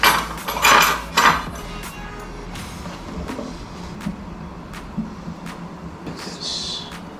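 A knife cuts through a moist cheesecake topped with whipped cream from Layers Bakery in Lahore, giving a few close clinks and taps against the plate or packaging, then quieter scattered knocks.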